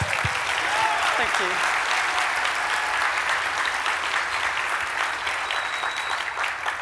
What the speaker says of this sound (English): First, we clap.